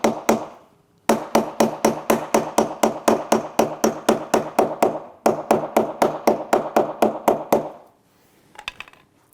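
A hammer taps a leg of a detailing cart into place, striking through a protective buffer rather than bare metal: two fast, evenly spaced series of sharp knocks, loud and close, then a few lighter clicks.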